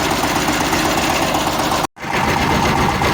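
Loud diesel tractor engine (160 turbo intercooler) running steadily close by while plowing, a rhythmic chugging drone that briefly cuts out before resuming.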